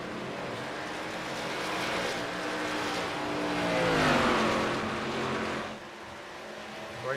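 Race cars speed around the track at Texas, a steady loud engine roar with one car's pitch rising and sweeping past near the middle before the sound eases slightly.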